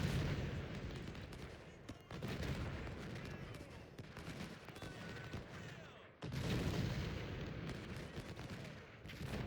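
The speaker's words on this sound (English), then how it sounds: "our cannons are doing an amazing job" Cannon artillery fire from the Ultimate General: Civil War video game, Battle of Stones River, rolls on as a dense, continuous roar of booms and crackling gunfire, dipping briefly twice before surging back at full strength.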